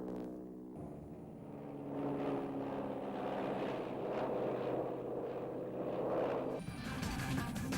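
A prop-driven Cessna forward air control plane of the Vietnam air war flying: a steady, fairly faint engine drone with a humming propeller tone that swells slightly midway, with no talking.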